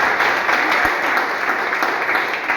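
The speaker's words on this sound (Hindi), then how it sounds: "चलिए ताली बजाइए, बड़ा अच्छा जवाब दिया।" A young audience at a legal awareness camp gives steady, dense applause, close and loud throughout, with no voices over it.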